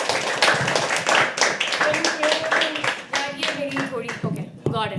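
Steady applause from an open-mic poetry audience, many hands clapping in a dense wash while voices and a few cheers rise over it before it thins out near the end.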